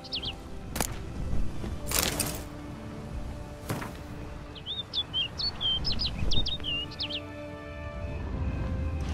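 A bird in The Witcher 3: Blood and Wine chirps in a short run of quick, bright twittering notes. Sharp impact sounds come before it, and a low ambient game soundscape runs underneath.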